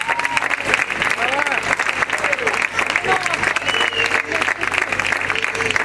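A concert audience applauds an Italian singer with steady, dense clapping that runs the whole time, and voices and cheers come through over it.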